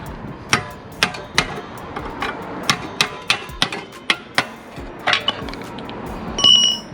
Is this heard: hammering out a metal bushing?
yes